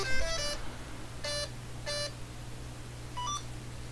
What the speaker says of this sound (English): let's fire up that ESC